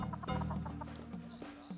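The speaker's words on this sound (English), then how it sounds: "I guess chickens don't really do a lot" Chickens cluck in short, soft bursts in the zoo game Planet Zoo, quiet and close with a few brief calls in quick succession.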